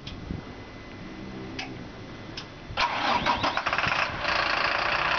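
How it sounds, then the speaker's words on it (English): A truck's diesel engine cranks with a ticking starter, then catches and roars to life, settling into a loud, rough, steady run close by in the open engine compartment. "Steve's going to go ahead and start the engine"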